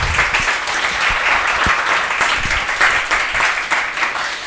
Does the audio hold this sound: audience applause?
yes